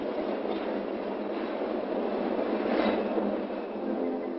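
PATH commuter train running beneath the World Trade Center construction site in New York, a steady, loud rumble of rail cars rolling along the track with faint clickety-clack, no voices.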